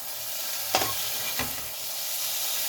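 A potato, cluster bean and fenugreek fry stirred in a pan, steady sizzling hiss with two distinct scraping strokes of the spoon, close and continuous with no voices.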